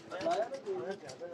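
Migratory pigeons in a loft give soft, low coos, faint and close, in a short burst mixed with talk.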